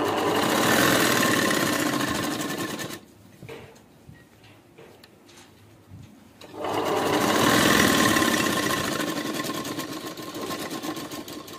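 Sewing machine stitching fabric over a zip while lining a boat-neck kurti, a loud rapid mechanical whir that stops briefly for quiet handling of cloth, then runs steadily again, close up.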